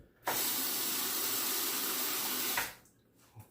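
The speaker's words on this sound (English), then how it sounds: "And I'll go ahead and wet the razor." Water from a bathroom tap runs in a steady, close hiss for about two seconds as a razor is wetted before shaving, then cuts off abruptly, followed by a small clink.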